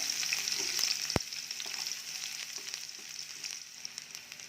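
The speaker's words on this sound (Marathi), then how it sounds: "तेल छान तापलं कि यामध्ये आपण जो बारीक चिरून घेतलेला कांदा आहे तो टाकायचा" Finely chopped onion sizzles in hot oil for a sprouted moth bean curry, a steady quiet frying hiss with one sharp click near the start.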